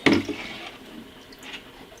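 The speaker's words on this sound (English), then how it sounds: "Pouring it in." About 500 ml of liquid is poured from a measuring cup during beehive fumigation for Nosema, starting with a sudden splash that trails off into a soft trickle.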